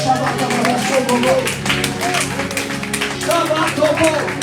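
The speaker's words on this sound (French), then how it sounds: "Applaudissez le Seigneur." Church congregation clapping together in praise, dense steady applause filling the room alongside sustained singing or organ-like tones and voices.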